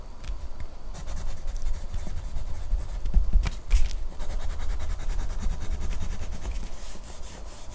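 A Sanford Mirado wood pencil scratches across paper in a continuous close, dry scraping, with a few louder thumps and bumps partway through.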